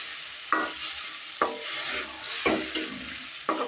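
Fish curry with eel being stir-fried in a pan, a low continuous sizzle punctuated by four sharp scraping strokes of a spatula at roughly even intervals, close and alone without speech.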